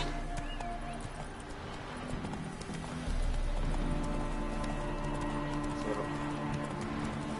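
Hoofbeats of Roach, a game horse in The Witcher 3: Blood and Wine, clip-clopping in a steady galloping rhythm over a dense game soundscape, with a brief voice in the mix.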